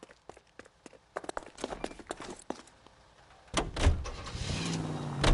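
Car in the video game L.A. Noire: scattered footsteps and clicks, then a door thump and an engine starting and revving up into a steady drive, fairly close and loud with no voices.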